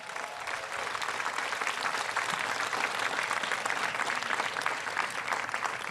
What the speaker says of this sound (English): let's give Fierté Canada Pride a round of applause